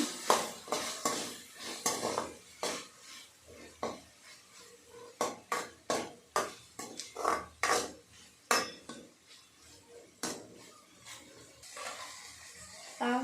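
A spoon stirs salted cooked rice in a metal pan, producing a rhythmic series of sharp scraping strokes against the pan, about a dozen, close and clear with no talking.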